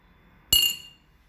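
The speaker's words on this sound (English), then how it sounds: "Let's put this nut into the bowl and let's see what happens." A small metal nut drops into a bowl of water, giving a single bright clink with a short ringing tail that fades within half a second, heard alone in a quiet room.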